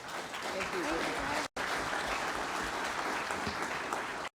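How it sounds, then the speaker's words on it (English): An audience at a 2016 Lieutenant Governor debate claps loudly and steadily, a dense sustained applause with a voice briefly heard over it. "It's okay to clap now."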